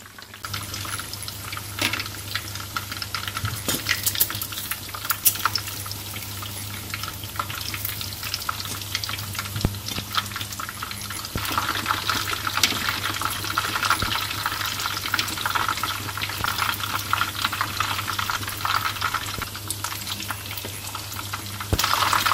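Fish cakes, the chewy crisp Vietnamese chả cá kind, sizzle and crackle in hot oil in a home kitchen, giving a steady dense hiss with occasional sharper pops and no one speaking.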